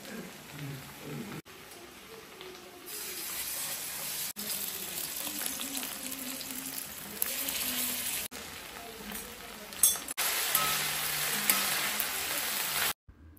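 Chicken frying in a pan, a steady close sizzle of hot fat that runs throughout, with brief clinks and handling noises and faint background sounds.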